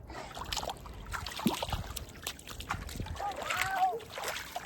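Bare feet splash and slosh in ice cold water outdoors, soft irregular splashes and trickles at close range, fairly quiet throughout.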